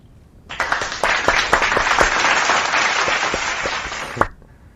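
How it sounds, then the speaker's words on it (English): A round of applause from a group, steady clapping rising quickly, holding for about four seconds at full strength, then stopping abruptly with one final louder clap. "Let's give a big round of applause for everyone."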